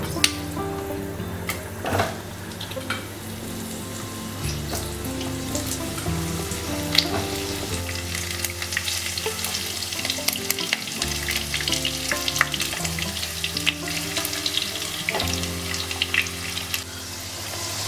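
Potato pieces hit hot oil already holding dried red chilies and whole-spice tempering in a pan, for bottle-gourd greens with matar dal; a loud, steady sizzle and crackle runs throughout over soft background music.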